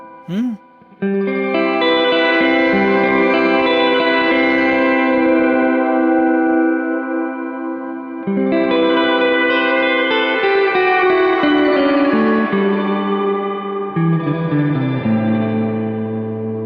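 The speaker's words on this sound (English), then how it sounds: "I want to use a reverb with some spring, and the mode we can add some shimmer" Guitar through a Strymon Blue Sky pedal set to spring reverb with shimmer, long sustained chords with a bright, high wash that swells and trails off, loud and alone after a brief plucked note.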